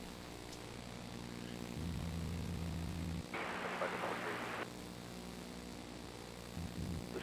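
An Embraer airliner arriving from Medford comes in to land at SFO at sunrise, a faint, distant engine drone with a low rumble swelling and fading, under soft background noise.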